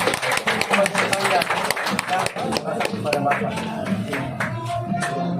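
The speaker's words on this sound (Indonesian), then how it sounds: "Tepuk tangan dulu." Hand clapping from a gathered family group at a traditional Manado–Arfak marriage proposal ceremony, dense rapid claps running steadily throughout, mixed with voices and chatter nearby.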